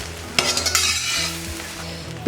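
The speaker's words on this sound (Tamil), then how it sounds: "இப்போ கிண்டு என்று கிண்டுவோம்." Chicken fried rice with soy sauce being stirred in a hot pan, street-style, with scraping spatula strokes over a steady sizzle, close and fairly loud, no talking.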